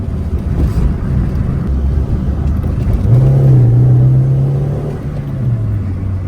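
A modified Mini Cooper driving with a steady low engine rumble inside the cabin, rising into a brief louder pull partway through, no talking.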